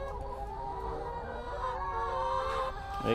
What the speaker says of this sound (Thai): ไก่ไข่ของเรา ก็ยังมีเหลือรอ ยืนกันหน้าสลอนรออาหารเช้า